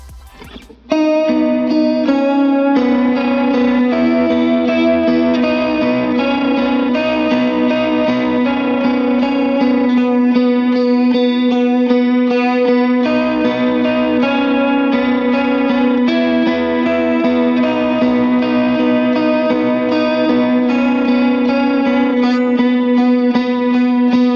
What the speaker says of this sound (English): there's a new guitar part that comes in on the chorus, and that part sounds like this